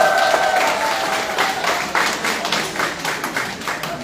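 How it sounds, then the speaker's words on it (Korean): Applause from an audience at an art gallery event, a dense burst of clapping heard close and fairly loud, fading slightly over a few seconds. "저 소개할 때는 이런 환호가 안 나올 것 같아요"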